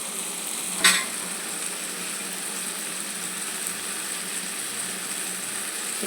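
Cut potato pieces dropped into a pan of frying tomato, giving a brief sharp splash and then a steady, even sizzle that carries on throughout.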